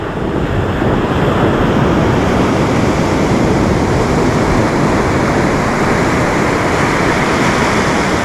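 Surf on a beach along the Lagos coast in Portugal, a loud, steady wash of breaking waves mixed with wind rumble on the microphone, continuous with no voices.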